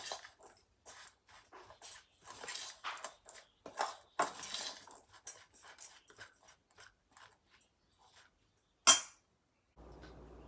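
A spoon stirs sabudana khichadi ingredients with Himalayan salt in a cooking pot, making a steady series of light scraping and clinking taps. A sharper knock comes near the end, then faint low rumbling.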